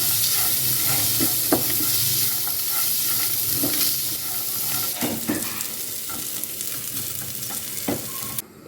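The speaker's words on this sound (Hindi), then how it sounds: "अब इन सबको हम ड्राई रोस्ट कर लेंगे।" Dry fruits being dry roasted in a pan for sheer khorma give a constant loud sizzling hiss with scattered scraping stirs and knocks of a spatula, close up, no talk.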